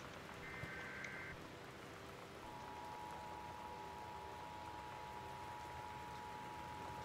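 Steady storm rain in Gone Home, a soft continuous hiss of falling water, faint and even throughout, with a thin electronic tone running beneath it and no speech.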